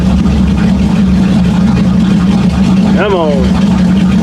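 A 1979 Chevy K20 engine idling just under 1,000 rpm, a loud steady low rumble close by, with a brief spoken remark over it partway through.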